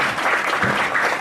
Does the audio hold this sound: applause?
yes